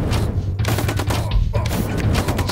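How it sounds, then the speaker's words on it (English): Sniper rifle shots and dense battle noise in the tower-defense game Zombie Wars: Invasion, loud and continuous with repeated sharp bursts throughout. "sniper rifle, I think."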